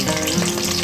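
Green chillies, curry leaves and onions fry in oil for an Andhra brinjal curry, giving a steady, close hiss of sizzling with no breaks or voices.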